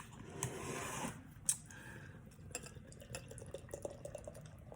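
Public Craft Brewing's Never A Dill Moment dill kettle sour beer is poured into a glass in a short, steady splashing rush, then settles into faint drips, fizz and small clinks.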